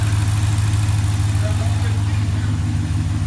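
A 4th generation RAM truck engine idles steadily with a deep, loud, continuous rumble, unchanging throughout.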